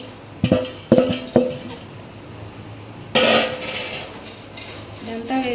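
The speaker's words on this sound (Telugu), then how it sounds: "ఇదిగోండి ఇప్పుడైతే మన బూందీ వేసేసి కలిపేద్దాం." Metal spoon clanks and scrapes against a steel pan while boondi is mixed with fried cashews and raisins for laddu, a few sharp knocks followed by a rougher stirring rasp, fairly close.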